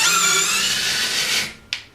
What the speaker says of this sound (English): we've set the drill to clockwise, we're at the lowest speed